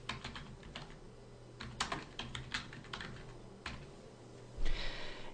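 Computer keyboard typing with irregular bursts of key clicks and a brief busier flurry near the end, fairly close and alone with no talk.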